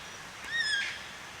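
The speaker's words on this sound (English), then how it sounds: "3 big yellow-tailed black cockatoos flying over." A single brief, wavering screech from yellow-tailed black cockatoos flying overhead, faint and distant against a low background hiss, lasting under half a second.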